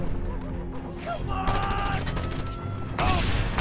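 Shotgun blasts from the video game Just Cause 2 crack out in a couple of loud bursts amid game noise, with a voice talking over parts of it.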